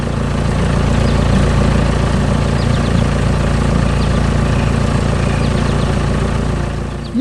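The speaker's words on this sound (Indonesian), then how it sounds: "Mesin konstruksi hijau sedang bekerja keras di tanah berwarna coklat." A green construction machine's engine works hard on brown ground, a loud, steady, low droning rumble that holds constant throughout with no voices.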